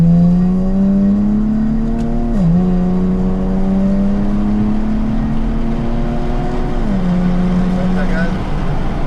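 A car pulls hard around a race track during a driving lesson, its engine loud and close, pitch climbing steadily with two sharp drops as it shifts up, then climbing again.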